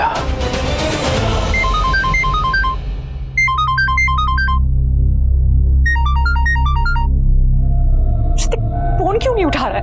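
A bright, melodic phone ringtone plays in repeating chimed phrases over a low hum, pausing between bursts, with some talking near the end.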